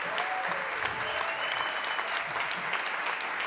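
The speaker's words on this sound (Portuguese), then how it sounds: "com quem eu peço uma salva de palmas" Concert audience applauding steadily for the accompanying guitarists at a tribute show, a dense, even wash of clapping hands throughout with no voices standing out.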